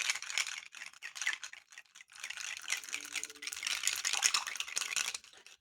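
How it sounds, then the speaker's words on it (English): Ice cubes drop into a glass of gin, giving a faint, close cluster of small clinks and rattles over a few seconds. "I'll get the ice right in there"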